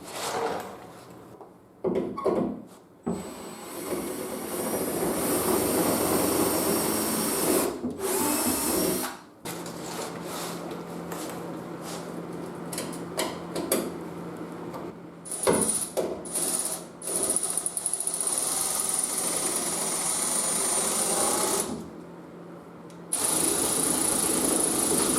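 A power drill bores holes through a plastic fender flare being fitted to a Jeep YJ, with long loud whirring bursts broken by short pauses and a few clicks and handling knocks between them.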